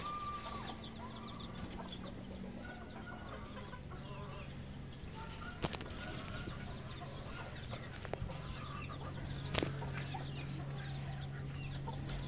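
Chickens cluck steadily and softly throughout, a flock with chicks milling nearby around their feeders, with a few sharper knocks and clatters now and then.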